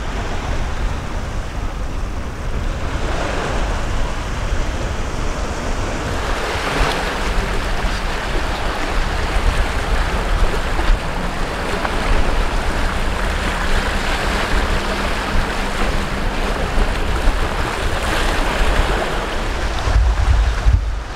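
Sea waves surge and break in a continuous rushing wash, with gusts of wind buffeting the microphone throughout.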